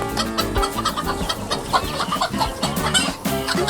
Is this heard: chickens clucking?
yes